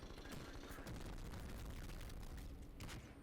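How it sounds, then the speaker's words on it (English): A war machine grenade launcher fires in a Call of Duty video game, a dense stretch of booming shots and bursting blasts heard faintly in the background with no clear talk. "if you use the war machine"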